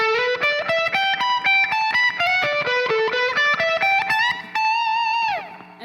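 A quick electric guitar lick with a bright, slightly driven tone, a rapid run of notes ending on a held, ringing note.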